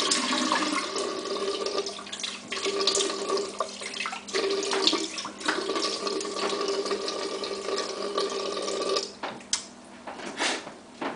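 Cold water runs steadily from a bathroom tap in an unbroken rushing stream, close and fairly loud, with a few small splashes and knocks toward the end.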